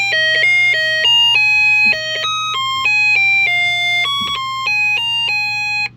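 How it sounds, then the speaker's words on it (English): A Snap Circuits window burglar alarm sounds a loud electronic melody, with bright beeping tones jumping between pitches in a quick repeating pattern over a low steady hum, with no talking. "So it turns out when I talk, it actually triggers the alarm"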